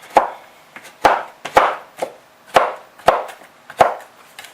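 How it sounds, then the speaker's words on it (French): A large knife chops firmly on a cutting board in a steady rhythm, about seven sharp strikes with a short pause between each. "Donc au début vous hachez grossièrement et ensuite vous essayez vraiment d'avoir quelque chose d'assez"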